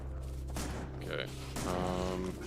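Weapon fire in Factorio during a Space Age co-op session, a dense crackling volley under a steady low drone, with a person speaking over it.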